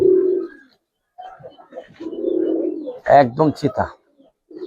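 Giribaz pigeons coo in low, rolling bursts, with someone talking over and between the calls at close range.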